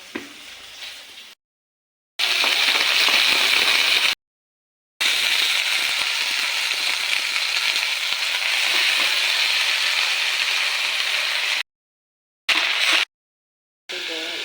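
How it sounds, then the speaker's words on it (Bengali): Bottle gourd leaves fry in a wok with a steady, loud hissing sizzle close up, broken by a few abrupt silent cuts, with no talk. "এখন এই যে কড়াইতে ভেজে তারপরে যে এগুলো বেটে নেব"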